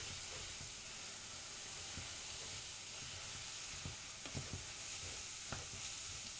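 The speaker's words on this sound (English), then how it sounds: "Stir it up again" Food simmers quietly in a cooking pan under a soft steady hiss, and a few sharp scrapes and clinks of stirring land in the second half.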